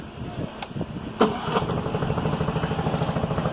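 A 2013 Honda outboard motor on a 1978 Boston Whaler starts after a few cranking clicks, then settles into a steady, rapid, fairly quiet idle putter close by.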